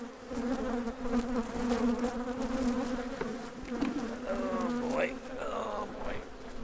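Honey bees buzz steadily and close while Taylor Yard hives are split, a dense droning swarm with rising whines of individual bees passing near the end.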